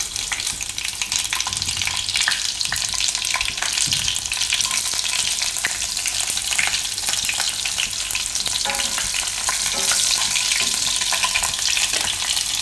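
Green chillies and mustard seeds hit hot oil in a pan, giving a loud, steady broadband sizzle and crackle that holds throughout, with a few scraping stirs and small pops on top.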